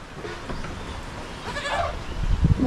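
Goats on a small farm herd with newborn kids bleat faintly at a distance over a steady outdoor background, the calls growing a little louder toward the end.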